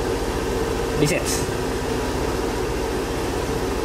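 A Kawasaki-style K-XCT125 scooter engine idles with a steady low hum throughout, while someone speaks briefly over it and a short button beep sounds near the start.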